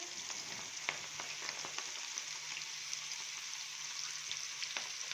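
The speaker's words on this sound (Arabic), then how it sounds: "احنا كده الزيت بتاعنا اهوت سخن، هننزل فيه بالبصله" Onions sizzle and crackle in hot oil in an Egyptian home kitchen, a steady close frying hiss with small pops, no talking.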